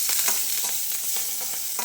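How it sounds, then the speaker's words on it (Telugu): Garlic sizzles in hot oil for a tempering, a steady bright crackle with faint stirring scrapes, close and continuous with no voices. "వేగుతా ఉన్నాయి నూనెలో"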